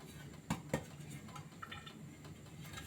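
Metal lid clanks onto a pot of cooking lentils in a home kitchen: two sharp close clinks about a quarter second apart, then quiet faint clatter and low background hum.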